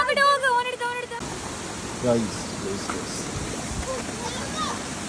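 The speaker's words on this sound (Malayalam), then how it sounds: "അങ്ങനെ നമ്മൾ ലാസ്റ്റ് എത്തിപ്പെട്ടിട്ട് വെള്ളച്ചാട്ടം എന്ന് പറഞ്ഞാൽ അടിപൊളി വെള്ളച്ചാട്ടം കേട്ടോ" A waterfall roars as a steady, broad rush of falling water close by, after a brief stretch of voices at the start.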